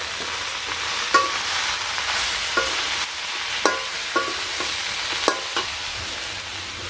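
Vegetables frying in a pan in a village kitchen, a steady loud sizzle throughout with periodic sharp scrapes and taps of a stirring spoon against the pan, close up.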